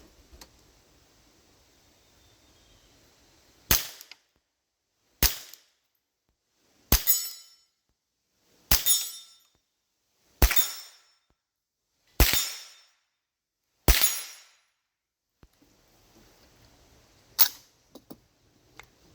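Eight sharp gunshots from a Citadel Trakk gun, fired one at a time at steady intervals of roughly two seconds, each a loud crack followed by a short decaying echo, with quiet gaps between shots.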